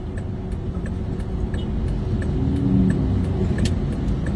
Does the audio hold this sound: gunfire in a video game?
no